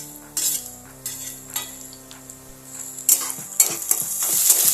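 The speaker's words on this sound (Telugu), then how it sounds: "ఒక 2 మినిట్స్ ఫ్రై చేసుకుందాం" Tamarind leaf curry with green chillies and curry leaves fries in a pan, a steady sizzle broken by repeated scrapes and stirs of a spoon against the metal, louder clatter toward the end, no voices.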